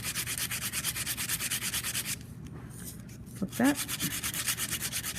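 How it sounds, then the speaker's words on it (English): Folded sandpaper rubs back and forth in quick, even rhythmic strokes close by, pausing briefly midway while a voice speaks a few words, then the sanding resumes. "Flip it over. Sand again."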